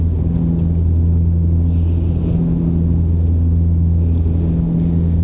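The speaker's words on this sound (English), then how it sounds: "Maybe because we reduced the power of the engines." Antonov airplane engines drone steadily in flight at reduced power: a loud, constant low rumble with a deep hum that fills the cabin without a break.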